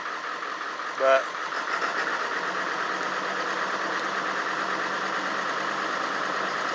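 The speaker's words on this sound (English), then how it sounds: "it doesn't feel like all my injectors are firing" A 7.3 diesel in a 1994.5 E99 Super Duty idles rough on summer diesel in cold weather, with the injectors apparently misfiring. It makes a steady low drone with a faint uneven knock, mostly under someone talking.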